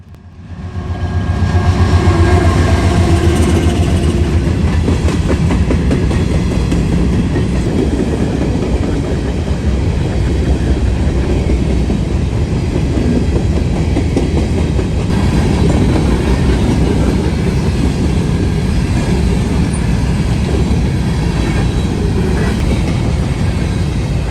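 An empty grain freight train hauled by a single C6M locomotive rolls steadily past in central Ohio, close and loud, with continuous rumbling and rhythmic clickety-clack of wheels on rail joints.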